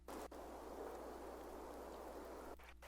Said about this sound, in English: so the Footsteps in Rain I got from Black Octopus.